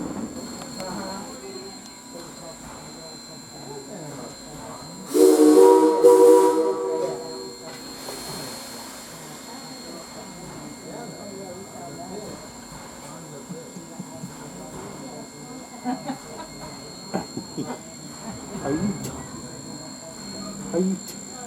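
Onboard the Essex Steam Train running from Essex to Deep River Landing, a loud steam whistle blast sounds for about two seconds amid the carriage's steady rumble, with passengers talking throughout.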